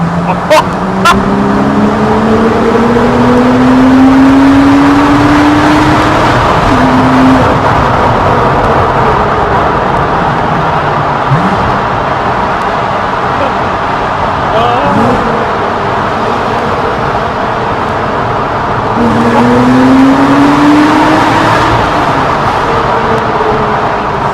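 A 2010 Porsche Cayman S 987.2 heard from inside with the windows down, its engine note rising in long climbing sweeps of acceleration over steady road and wind roar, with a pause between pulls and a second strong surge later.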